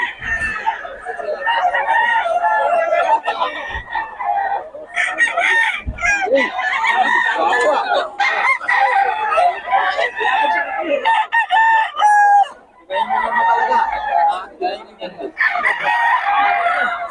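Several roosters crow repeatedly alongside clucking chickens, loud and close, with a busy farmyard atmosphere throughout.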